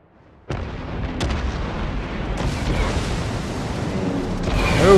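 Naval shell rounds from the World of Warships video game land after a quiet opening, setting off a loud, sustained rumble of blasts and booms that builds toward the end, with no talk.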